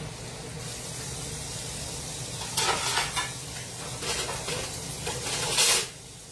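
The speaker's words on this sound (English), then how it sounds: "I'm frying the collard greens." Collard greens fry and sizzle in a pan for soul food cooking, a steady crackle with louder bursts of stirring and spattering partway through, heard close with no talking.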